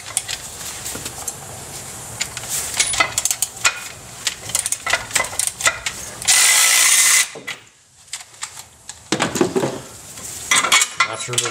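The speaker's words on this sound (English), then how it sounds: "Now we're gonna remove the bolt actually going to the mount here." A 17 mm bolt on the transmission mount of a 1996-2000 Honda Civic with a manual gearbox being loosened, heard as loud close metallic ratcheting clicks and clanks of tools in bursts, including a sustained whirring stretch, with no speech.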